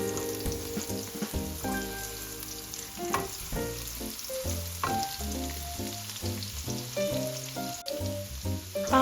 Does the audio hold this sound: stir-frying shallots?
yes